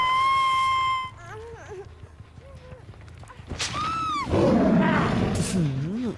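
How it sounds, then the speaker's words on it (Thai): A creature in Dead by Daylight Mobile lets out a loud lion-like roar, a rising growl that swells into a broad rumbling blast, after sweeping game tones and chimes. "แต่เสียงเหมือนสิงโตคำรามมากเลยนะ"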